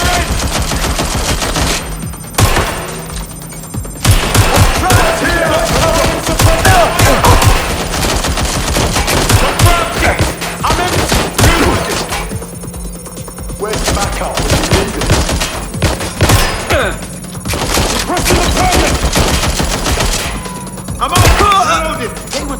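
Gunfire in the video game Watch Dogs Legion: loud, dense automatic bursts and single shots ring out almost nonstop, with shouting voices mixed in.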